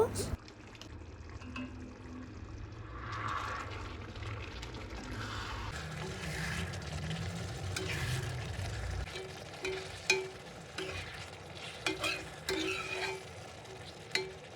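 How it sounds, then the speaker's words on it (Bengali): Chicken being stirred with shahi garam masala in a pan, soft scraping and shuffling strokes over a low sizzle, close and moderately quiet, with some talk mixed in. "এর মধ্যে শাহি গরম মশলা দিয়ে চিকেনের সঙ্গে খুব ভালোভাবে নেড়েচেড়ে মিশিয়ে দেব"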